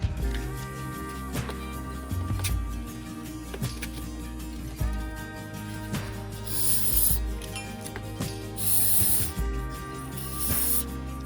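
Cleaner sprayed in short hissing bursts onto VW MK3 brake caliper parts held over a cardboard box, with clinks and rubbing of metal parts between sprays, close and fairly quiet.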